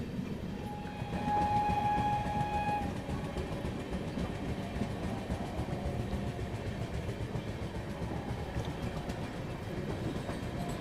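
Indian Railway Sampark Kranti express train running, a steady rumbling clatter of wheels and carriages heard from onboard, with a brief tonal horn-like note near the start.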